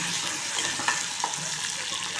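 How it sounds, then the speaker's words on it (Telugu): Seasoning for mango dal fries in a pan, giving a steady close hiss and sizzle with faint stirring scrapes throughout. "ఇక్కడ ఫ్రై అవుతుంది"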